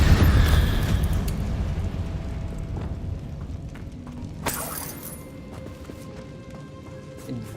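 Spell blasts from Incendio and Confringo in the Hogwarts Legacy video game: a dense roar at the start fading into rumble, with a sharp bright burst about midway and a smaller pop near the end.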